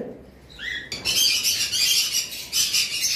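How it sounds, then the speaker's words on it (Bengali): A white-faced fawn cockatiel lets out a brief rising whistle, then breaks into loud, harsh, continuous squawking, very close. "এখানে একটা হোয়াইট ফেস ফন কোকাটেল রয়েছে"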